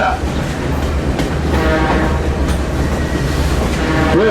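A Conway Scenic Railroad passenger train rolls along its tracks, a loud, steady low rumble with rhythmic wheel clatter and faint squeals, heard from aboard the moving train.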